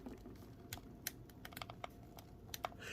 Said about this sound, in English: It was doing a lot of cranking every time I moved it